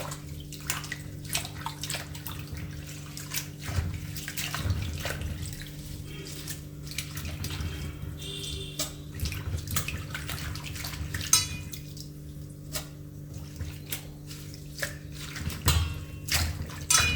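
Water runs and splashes in a home kitchen while red amaranth greens are washed, with intermittent gushes, drips and light clinks of a vessel over a steady low hum. No talking.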